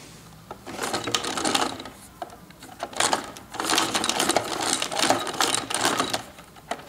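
A homemade forge blower runs with a loud, continuous mechanical rattle and clatter, surging in bursts of ratcheting, gear-like noise with brief dips between them.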